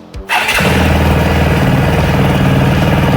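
A new motorcycle's engine cranks briefly, catches and settles into a loud, steady close-up idle with a fine regular pulse, no voices.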